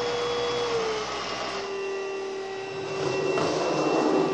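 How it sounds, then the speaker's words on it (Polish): A Hoover Rhapsody RA22HCG cordless stick vacuum cleaner runs on a heavily drained battery, a loud, close, continuous whine and airflow roar with a steady motor tone that shifts slightly in pitch. "odkurzamy z mocno rozładowanym akumulatorem"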